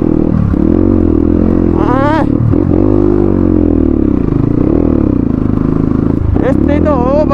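A motorcycle rides along a rough, uneven road, its engine a loud continuous drone that rises and dips with throttle changes, with rattling bumps and people talking over it.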